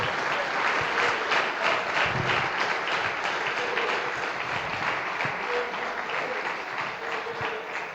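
A church congregation claps together during a service, a dense, sustained round of applause filling the room at steady loudness from start to finish.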